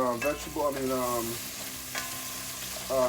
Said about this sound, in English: let it sit there and simmer, because this is just about cooked